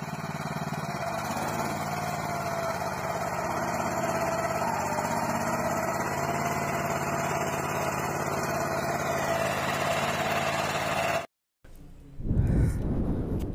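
A new Swaraj mini tractor engine idling with a steady, even low rumble and chug that cuts off abruptly near the end, followed by a brief rustle.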